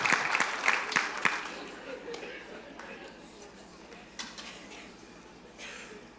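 Audience applause after a talk in a lecture hall, a burst of clapping at the start that fades within about two seconds into a low room murmur with faint scattered claps.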